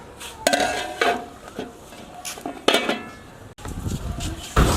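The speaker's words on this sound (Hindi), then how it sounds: "ऊपर ढक्कन लगा देंगे।" Metal kitchenware clatters and clinks in short bursts, a lid set onto a pot of Kabuli chicken pulao among the knocks, close and fairly loud.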